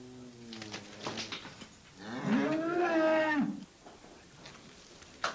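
Cattle low in a stable, a moderate moo followed by a longer, louder drawn-out bellow, then quiet ambience.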